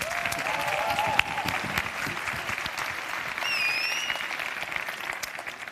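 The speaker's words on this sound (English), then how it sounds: "So please give her a huge round of applause." A large audience at the One Young World Summit 2022 in Manchester breaks into sustained, dense applause, a steady wash of many hands clapping, with a few faint whoops and a brief whistle over it.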